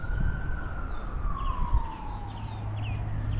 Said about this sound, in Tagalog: Yung mga tumutunog na pulis yung mga nagwawang-wang.